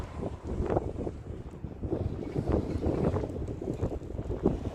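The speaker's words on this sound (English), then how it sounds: "It's getting windier and windier as I'm going out on the pier" Strong gusting wind buffets the microphone on a seaside pier at a royal harbour, with a continuous low rumbling roar that swells and eases in uneven surges and no talking.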